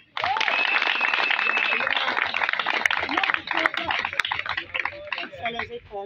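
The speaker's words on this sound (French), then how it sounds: "Et ça s'applaudit." Crowd at a political campaign rally for legislative elections applauding and cheering, a loud, dense burst of clapping that carries steadily for several seconds before cutting off, with voices shouting through it.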